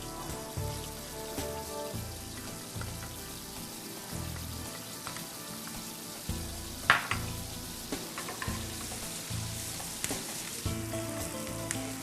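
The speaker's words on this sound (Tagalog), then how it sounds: "Sautein natin ang ating onions. Garlic." Onions and garlic sauté in a pan for a cheesedog penne arrabbiata, a steady crackling sizzle broken by repeated stirring scrapes and a sharp clink partway through, with no talking over it.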